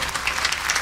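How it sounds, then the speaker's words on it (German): Brief burst of studio audience applause on a German television quiz show, steady hand-clapping from a crowd with no voices over it. "da gibt es einen ordentlichen Applaus vom Olymp"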